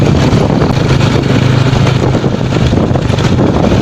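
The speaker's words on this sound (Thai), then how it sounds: "โอ้ยเสียงลม" Wind buffets the microphone outdoors in a loud, continuous low rumble and roar that never lets up, with no voices over it.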